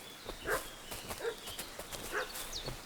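A dog in the video game Kingdom Come: Deliverance II barks a few times in short, spaced yelps, fairly distant and moderate in level over a steady background ambience.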